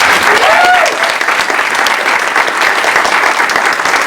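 Steady applause from an audience at an employer recognition reception, dense and sustained throughout at close range, with a brief voice rising over the clapping near the start.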